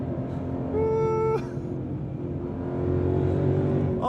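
A Ford Mustang GTD with a supercharged V8 revs and accelerates, a rising tonal engine note that drops at a shift, then builds again as a low rumble from inside the cabin, with no talk.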